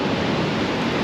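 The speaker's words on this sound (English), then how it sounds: "down here at the beach with all these waves crashing" Ocean waves on a beach give a loud, close, continuous surging roar without distinct breaks, mixed with a little wind buffeting.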